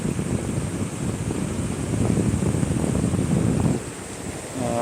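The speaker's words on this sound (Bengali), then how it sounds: "সমুদ্রে জোয়ার শুরু হয়ে গেছে তারপর জোয়ারের জল আসতে থাকো" Sea waves of the incoming tide wash continuously onto Shankarpur beach, a loud broad rushing roar mixed with wind buffeting the microphone, easing slightly near the end.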